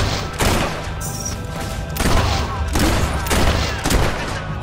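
Gunfire from a weapon in a video game, four loud bursts of rapid shots roughly a second apart, each dying away with a short echo.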